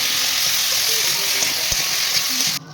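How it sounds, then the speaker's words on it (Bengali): Cauliflower and tomato fry in a pan with turmeric and salt, a loud steady sizzle and hiss with light scraping of stirring, ending abruptly with a couple of clatters. "ফুলকপি, টমেটো সব কিন্তু এখানে দিয়ে দিলাম। দিয়ে এবার কিন্তু নাড়াচাড়া করব।"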